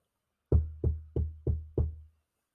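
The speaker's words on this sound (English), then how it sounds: "Someone knocks on the door." Five firm knocks on a door in an even, steady rhythm, close and fairly loud, with nothing else around them.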